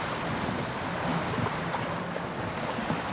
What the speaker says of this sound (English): Cruise ship is definitely passing in front of me.